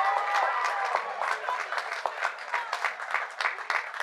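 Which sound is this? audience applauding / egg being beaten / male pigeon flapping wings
audience applauding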